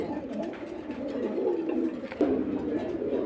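Caged pigeons at a pigeon sale coo continuously in low, throaty rolls, with one sharper coo rising near the end, close and fairly loud.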